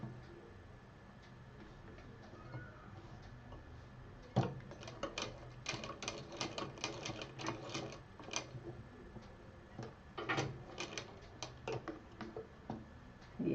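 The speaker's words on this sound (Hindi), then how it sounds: "ये जो इलास्टिक है इसको हम यहाँ पे सिल देंगे।" A sewing machine stitches elastic onto a fabric cover in quick bursts of sharp ticking, with stop-and-start runs of rapid needle clatter close by.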